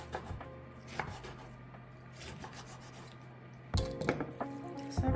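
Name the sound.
knife chopping aged sour kimchi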